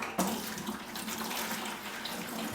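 Water pours steadily from a tap or container to mix tile mortar for a ceramic backsplash around a tub, a continuous close splashing stream with no talking.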